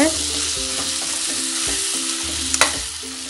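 Capsicum and tomato stir-frying in a pan for egg chilli, a loud continuous sizzle with rhythmic scrapes of a spatula, close and steady, ending with a sharp clink.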